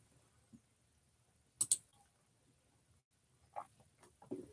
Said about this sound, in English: sorry if the clicking is super loud by the computer